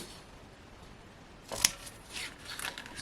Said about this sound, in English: if I snip this out